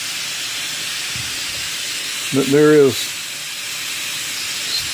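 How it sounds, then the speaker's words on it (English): Steam hisses steadily from the vent holes of a pressure canner processing pork loin, a constant loud broadband rush that continues under a short stretch of speech. "There's a steady steam coming out of those four vent holes, as you can hear."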